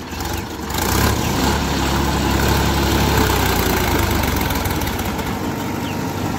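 A heavy Sonalika diesel tractor engine chugs at idle nearby, a continuous low rattling drone that holds steady throughout.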